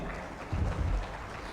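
An audience at a mushaira poetry gathering at an Urdu conference breaks into a short burst of applause for a poet, a dense wash of clapping that swells briefly and fades, heard from within the hall.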